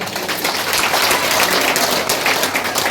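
An audience claps loudly and continuously at a Maulid religious lecture in Kepulauan Meranti, Riau, with a dense wash of hand claps and no voices on top.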